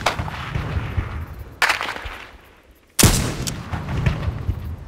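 Gunfire in Arma 3 Exile Mod: two sharp, loud reports separated by a short lull, each followed by a rolling echo that fades into the open distance.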